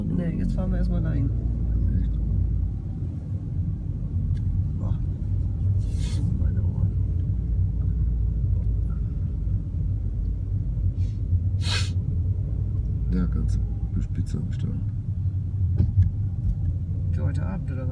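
A car drives through a village with a steady low engine rumble and road noise throughout, people talking quietly inside over it, and a couple of brief sharper noises.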